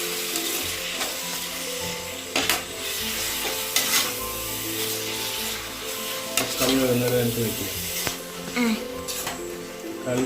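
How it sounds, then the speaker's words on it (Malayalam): Tomatoes frying in a pan while being stirred for a chicken biryani, a steady close sizzle broken by scraping strokes of the stirring, with someone speaking over it. "ഈ തക്കാളി ഒന്ന് വഴന്ന് വരണ വരെ ഒന്ന് നമുക്കൊന്ന് നന്നായി ഇളക്കി യോജിപ്പിക്കാം ഇളക്കി കൊടുക്കാം"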